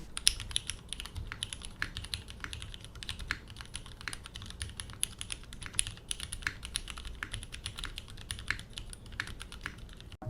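Steady, fast typing on a mechanical TKL keyboard of the F1.8X type, a dense stream of crisp clicks and clacks up close with no voices.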